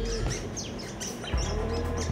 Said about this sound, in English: It's the Eurasian golden oriole.